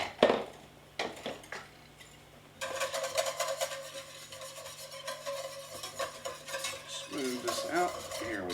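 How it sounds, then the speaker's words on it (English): Cream sauce is whisked in a deglazed pan, with a few separate metallic taps at the start, then rapid, continuous whisk scraping against the pan over a low sizzle, close and moderately quiet. "Let me get a whisk to work with"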